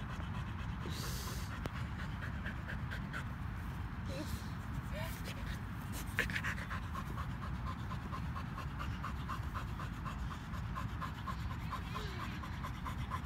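A calm dog pants steadily and rhythmically in a Toronto park, close by throughout, with people talking over it and faint outdoor background noise.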